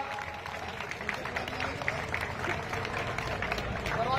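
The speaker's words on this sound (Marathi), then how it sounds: "चला टाळ्या वाजून जोरदार स्वागत." Applause and cheering from a crowd welcoming the winning kabaddi team at a birthday and kabaddi event, a steady dense wash of clapping and noise that stays loud throughout, with voices mixed into the crowd.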